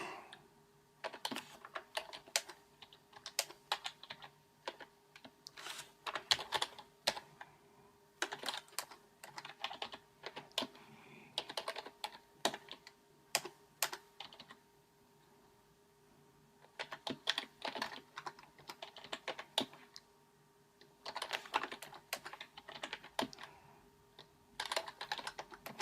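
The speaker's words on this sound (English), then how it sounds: "I really find just using the keyboard for this sort of thing is super helpful" Computer keyboard typing while laying out an electronics schematic for an NFC and WiFi equipment lockout device, heard as quick clustered bursts of keystrokes separated by short pauses, close and with no talking.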